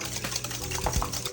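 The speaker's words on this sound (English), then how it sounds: "We're gonna whisk the egg yolks." Egg yolks and cheese are whisked in a bowl, giving quick rhythmic scraping and clinking strokes up close, moderately loud and with no talking.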